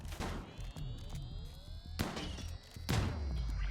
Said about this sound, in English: So we can interrupt that cannon firing.